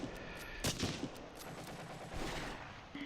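A StuG assault gun firing high-explosive rounds at a town hall in the Close Combat war game, with a couple of sharp blasts over a dense rumble of distant battle gunfire.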